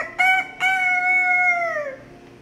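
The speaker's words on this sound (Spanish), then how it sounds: "Sigue siendo gallo, pero cada día, al amanecer, se esmera que su canto sea más hermoso." A rooster crows once at dawn on a farm, close and loud, with a short stuttering start before a long sustained call that bends downward and fades, with no other sound around it.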